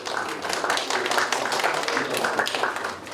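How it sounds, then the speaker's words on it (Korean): Steady applause from an audience at a business award ceremony in a university auditorium, dense, even clapping filling the room throughout, with no voices over it. "큰 박수 부탁드립니다"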